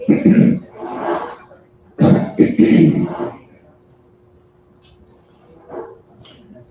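A dog at a live show inside Ledo Pizza in College Park barks in several loud, close bursts early on, then falls quiet apart from a few faint sounds.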